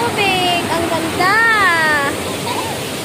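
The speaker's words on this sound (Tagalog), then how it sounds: "Yung patak ng tubig. Ang ganda." Water pours steadily over a waterfall at a hidden resort in Baco, Oriental Mindoro, a continuous broad rush close by, with people talking and exclaiming over it.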